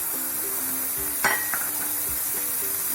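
Ground fennel and green chilli paste frying in hot oil, a steady sizzle with a sharp clink of a utensil against the pan and light stirring scrapes.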